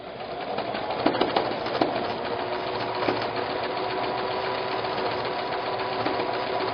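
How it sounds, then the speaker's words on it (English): Sewing machine running steadily while stitching applique around a fabric leaf, a continuous fast mechanical whir and rattle with a few louder clicks early on, close and with no talking. "Mash your presser foot, and as you do, you need to start moving."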